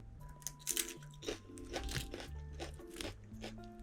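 Loud, close crunching bites into hot, crispy fried whole chicken, several crackly crunches with chewing between them, while music plays underneath.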